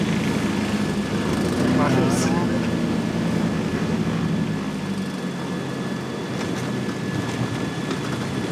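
A light airplane lands on a grass airstrip in a field on Borbon Island. Its engine gives a loud, continuous drone near the microphone that eases slightly toward the end, and someone talks over it.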